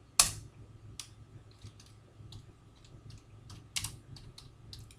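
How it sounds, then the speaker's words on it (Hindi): Keystrokes on a computer keyboard come in short, irregular bursts, including a sharper clack near the start and another around the four-second mark, while a line of text is typed into Notepad. Between the bursts there is only a low, quiet background hum. "हम यहाँ पर एक लाइन टाइप करते हैं"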